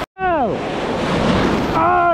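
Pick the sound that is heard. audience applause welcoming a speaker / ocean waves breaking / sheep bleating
ocean waves breaking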